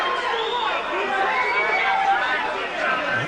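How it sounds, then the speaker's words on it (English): Local crowd at a boxing match booing the referee during a Naseem Hamed fight, a sustained mass of jeering voices rising and falling over the full stretch, loud and close. "the local crowd are biased there as they're booing the referee, not Hamed."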